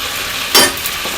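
Mustard greens (lai xaak) hit hot oil for an Assamese village-style fry, giving one short, loud sizzling burst over a low steady background hiss.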